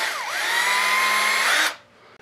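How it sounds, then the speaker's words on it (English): A power drill opens up a hole with a 15/64 bit while mounting Kolpin mirrors on a Tracker 800SX; one steady, loud, close whine runs nearly two seconds with a brief pitch dip near the start, then stops abruptly. "So drilling this hole out 15/64"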